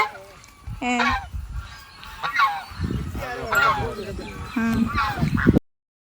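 Loud nearby honking from a flock of geese, also called Bengal ducks, swimming in water, with several calls in quick bursts across the clip and a voice briefly heard among them.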